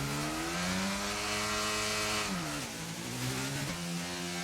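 F1 car engine in the video game F1 22, practising at Jeddah, revving high and steady before dropping in pitch twice as it shifts and slows, loud and alone with no talking.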